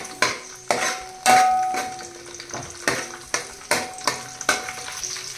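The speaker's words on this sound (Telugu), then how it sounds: "ఏడెనిమిది పచ్చిమిరకాయలు తీసుకుని ఇలా సగానికి చీల్చేసి వేస్తున్నాను అలాగే కొంచెం కరివేపాకు ఇవి చక్కగా వేగాలన్నమాట" Green chillies slit in half and curry leaves frying in hot oil, a soft sizzle under sharp, irregular clinks and scrapes of a metal spoon against the pan, close by with no talk.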